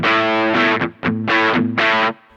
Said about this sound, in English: So it gets you more overdrive, so the maximum amount of gain is actually going to be a lot more.